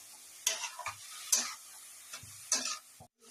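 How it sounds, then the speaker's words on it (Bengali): Grated carrot being stirred in a pan, a few separate scraping strokes with light sizzle, close and fairly quiet, ending in brief silence. "তো আমি এই গাজরটাকে ভালো করে নেড়ে চেড়ে দুধ দিয়ে তোমাদের দেখাচ্ছি"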